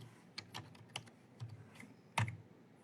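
Typing on a computer keyboard, a few scattered key clicks close by and fairly quiet, ending with one sharper, louder keystroke.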